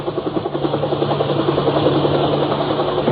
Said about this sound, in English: Overhead, a helicopter windmilled toward the shambles.